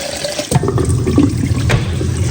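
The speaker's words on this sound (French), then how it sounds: "Là, j'attends que l'eau chaude arrive." Hot water runs steadily from a kitchen or bathroom tap into a sink, a close, continuous splashing rush that carries on for the whole moment with a few small knocks and clinks over it.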